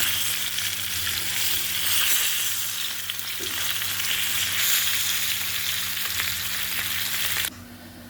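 Koi fish half-frying in a pan gives off a loud, steady sizzle that runs unbroken for about seven seconds, then drops to a quieter hiss near the end. No voices.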